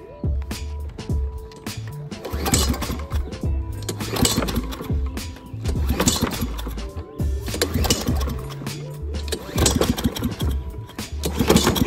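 A Husqvarna 775 lawn mower engine is cranked repeatedly, each start attempt a sputtering mechanical burst with rattling, pausing between tries and never settling into a steady idle.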